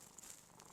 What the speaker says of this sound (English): You can hear him purring, I'm sure.